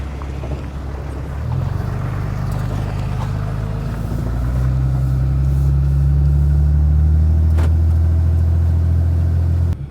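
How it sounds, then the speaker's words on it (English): A Dodge pickup truck idles steadily with a fuel trailer hitched, a loud, close low engine drone that rises slightly partway through and holds, with some wind noise over it and no talking. "I have the Dodge fired up with the fuel trailer on the other side of this truck"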